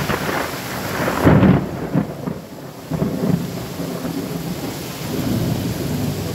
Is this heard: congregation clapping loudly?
no